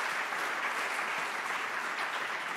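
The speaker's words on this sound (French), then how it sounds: "on vous applaudit bien fort" Steady, dense applause from an audience at a road-safety innovation awards ceremony continues throughout at an even level with no gaps.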